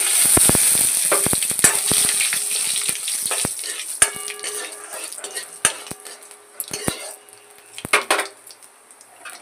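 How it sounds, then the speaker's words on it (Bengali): Dried red chillies and five-spice hitting hot oil for a dal tempering, crackling and sizzling in bursts with sharp clinks of a metal spoon against the pan, close and fairly loud. "গরম হয়ে গেছে, শুকনো লঙ্কা আর 5 ফোড়ন দিয়ে দিচ্ছি।"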